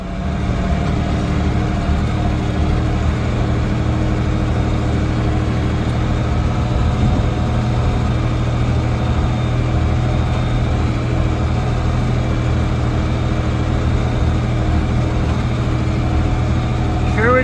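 A three-wheel tractor engine idles in a snowy setting, a steady, loud, low rumble with a constant droning hum that holds unchanged throughout, with no talking.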